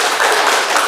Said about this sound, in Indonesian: Tepuk tangan buat Heldi.